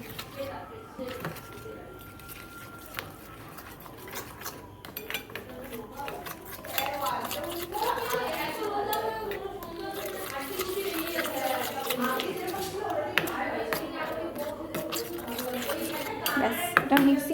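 Ingredients mixed in a bowl while oil heats in a kadai: steady clinking and scraping of a spoon against the bowl, growing busier midway, over a constant low background noise.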